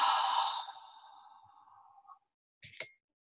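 A slow nasal inhale during a guided mindfulness breathing exercise, a soft, airy breath that fades over about two seconds and is followed by a brief faint click, with no talking.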